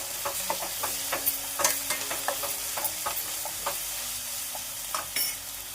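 Ginger garlic paste fries in a pan for a brinjal curry, giving a steady close sizzle broken by frequent sharp scraping clicks of a spoon stirring against the metal.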